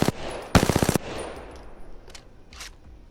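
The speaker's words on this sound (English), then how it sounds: "an SMG that killed really fast, and was an absolute laser while hip firing" Rapid bursts of SMG fire from Apex Legends: a single sharp shot, then a tight rattling volley of about eight rounds, followed by fainter scattered pops and a decaying tail, with no talk.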